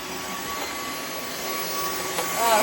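Robot vacuum cleaners, a Roomba i3 Plus and a Dyson, whir continuously at close range during an indoor soccer game, a steady mechanical hum with faint voices nearby.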